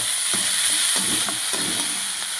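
Onion and tomato fry in an oily pan for cauliflower bhaji, giving a loud steady sizzle with soft scraping stirs at a slow rhythm, close up and with no voices.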